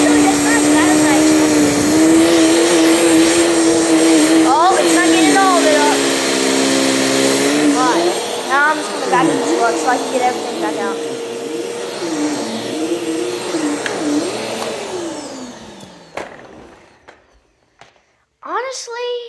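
A vacuum cleaner runs on its highest setting, a loud steady motor whine for about fifteen seconds under a voice that talks over it, then shuts off and winds down into near silence.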